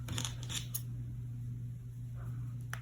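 Scissors trimming yarn on a small knit wreath ornament, a few quick close snips near the start and one more at the end over a low steady hum.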